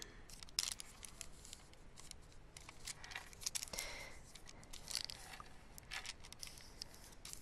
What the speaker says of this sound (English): So I'm going to fold this over and make sure I'm still lined up.